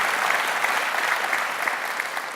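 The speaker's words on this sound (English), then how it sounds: "First of all, give him an applause." A keynote audience at a developer conference gives dense, sustained applause, loud and even throughout the short stretch.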